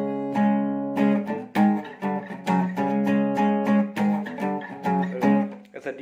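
Guitar riff from a song, played as chugging power chords broken up by short muted strums, steady and rhythmic throughout.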